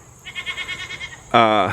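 Goats in their pen bleat close by: a wavering, trembling call followed by a louder, sharper bleat near the end, the two cries nearly back to back.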